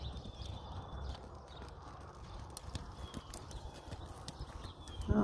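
A horse's hooves clip-clop steadily while it is ridden, a quiet, even gait of soft thuds against faint outdoor background, with a louder knock right at the end.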